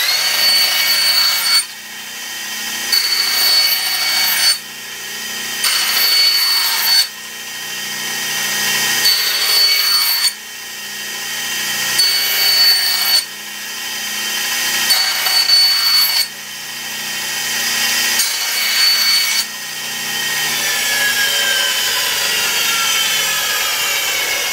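Power saw ripping a series of wood strips against a fence and straight edge, with about six loud, whining passes separated by short pauses, every two to three seconds.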